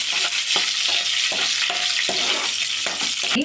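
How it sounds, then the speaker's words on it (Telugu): Mustard seeds, cumin and curry leaves fry in oil as a tempering for bottle gourd gongura, a continuous close sizzle broken by rhythmic ladle stirs and scrapes. "బ్రౌన్ కలర్లో తాలింపు వేగిపోయిందండి."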